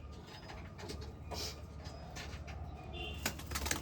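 Female pigeons in a loft coo softly through steady background noise, with a few brief brighter calls and faint wing sounds scattered across the stretch.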